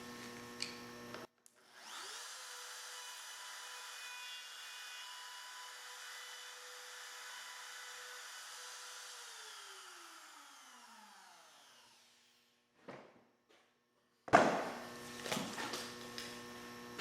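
Router bit cutting a slot in a cabinet door with a jig: a steady loud motor whine runs about ten seconds, winds down, then sharp clatter and knocks follow.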